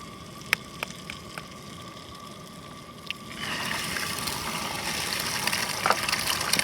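Eggs drop into a very hot pan greased with bacon fat: a few light clicks and taps, then a sudden, steady crackling sizzle that holds to the end.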